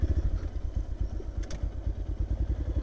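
Motorcycle engine rumbling at low revs on a rough off-road track, a steady near throb with irregular clattering pulses and a brief higher rattle midway, with no voices.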